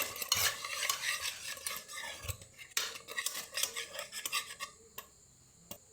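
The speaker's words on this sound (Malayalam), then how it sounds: "ഇത് ഗൈസ് നന്നായിട്ട് മിക്സ് ചെയ്തെടുക്കണം" A spoon stirs param pori batter in a bowl with steady, close scraping and clinking for several seconds, then a final tap. Nobody speaks.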